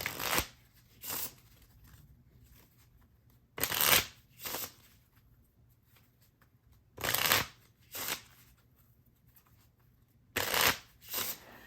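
A deck of playing cards shuffled several times in quick riffling bursts, separated by quiet pauses.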